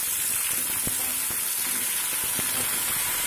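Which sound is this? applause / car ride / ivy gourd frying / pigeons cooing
ivy gourd frying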